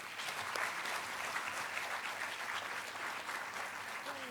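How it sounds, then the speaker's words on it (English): An audience in a hall claps for Kathak dancers after their performance at ICAR NAARM in Hyderabad, a soft, distant round of steady applause with no speech over it. "I want all of us to give them a huge round of applause."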